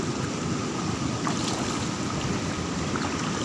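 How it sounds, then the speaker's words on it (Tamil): Floodwater rushes across a road, a steady broadband roar of flowing water with wind noise, continuous and fairly close. "இங்கே ஃபுல்லாக தண்ணி வருது."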